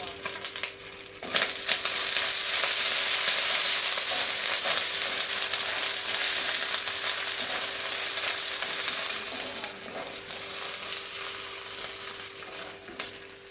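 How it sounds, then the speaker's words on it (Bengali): Grated ginger and chopped green chili fry in a pan with lightly fried coconut, giving a loud, steady sizzle up close that fades a little near the end, with occasional stirring. "নারিকেলটা অল্প ভাজা হয়ে আসলে গ্রেট করা আদা আর কাঁচা লঙ্কা কুচিটা দেব"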